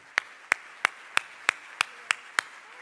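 Eight sharp, evenly spaced claps ring out one at a time in a quiet hall, sparse and deliberate rather than a full crowd ovation, as Supervisor Jane Kim is welcomed at the CABE 2016 conference.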